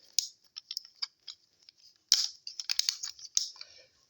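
Ratchet joints on a Transformers Optimus Prime MP-10G toy clicking as the wheel section is rotated, giving sharp, close plastic clicks in short irregular bursts with brief pauses between them.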